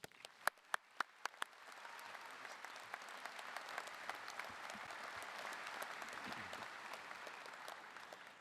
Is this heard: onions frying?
no